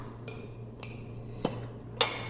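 Spoon stirring mug cake batter inside a mug, a few sparse clinks and taps against the side, quiet and close, with no talking.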